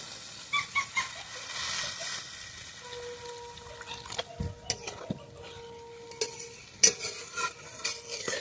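Water poured into masala frying in a pan, a soft trickle and hiss followed by scattered clinks and scrapes of a spoon against the pan, fairly quiet and without talk.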